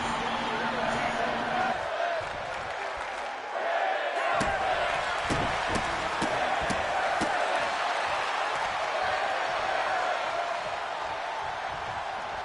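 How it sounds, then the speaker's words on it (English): A sold-out crowd roars steadily at a professional wrestling show, a dense wash of cheering and noise broken by a few sharp slams and thuds from the ring. "you can hear this sold-out crowd showing some love, making some noise for these 2 athletes"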